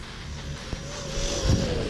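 Traxxas Maxx 4S RC truck run at full throttle on an off-road track, its electric motor whining steadily and rising in pitch, with a brief knock and a low thump near the end.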